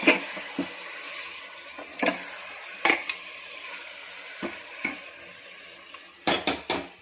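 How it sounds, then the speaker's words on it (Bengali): Chicken being stirred in a pressure cooker pot, a soft sizzle underneath a series of scattered metallic scrapes and clanks from the spoon, some clustered in quick bursts, close and with nobody speaking. "হালকা করে একটু নেড়ে দেবো"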